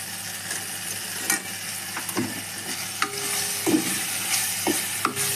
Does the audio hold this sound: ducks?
no